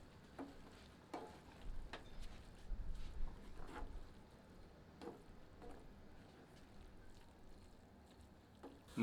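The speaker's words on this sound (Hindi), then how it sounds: "मिलाकर 2 मिनट तक मध्यम आंच पर भूनते हैं ताकि सारे जायके आपस में मिल जाएं" Paneer bhurji fries over a medium flame in a soft, steady sizzle, broken by scattered scraping and stirring clicks from the spoon against the pan, with no talking.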